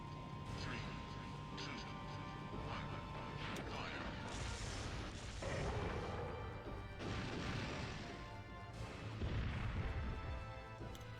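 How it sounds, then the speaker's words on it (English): Rocket launcher firing in the PS1 video game Resident Evil 3, heavy booming blasts and crashing impacts over a dense, continuous game soundscape of rumble and clatter. "this is the rocket launcher from the first game"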